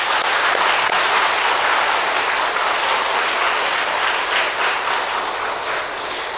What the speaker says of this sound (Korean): 우리 모든 우리 아버지들에게 한번 박수 한번 하도록 하겠습니다.